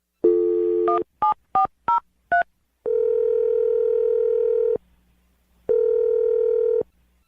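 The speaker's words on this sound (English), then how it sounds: "I'm going to dial her phone number right now" A quick string of touch-tone keypad beeps, then two long, steady ringback tones separated by a short pause. No voices.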